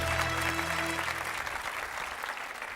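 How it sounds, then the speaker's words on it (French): A game-show studio audience applauds a near-professional amateur golfer, the clapping dense and sustained, with a short musical tone underneath at the start before the applause continues alone. "Applaudissements pour notre golfeur"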